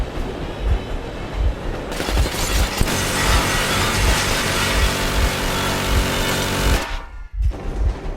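Machine gun warning shots ring out in the video game Metro Exodus, a loud sustained burst of rapid fire lasting several seconds over a rumbling vehicle engine.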